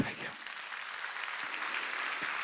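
Church congregation clapping during a Sunday worship service, dense steady applause filling the room for a few seconds, fairly loud throughout.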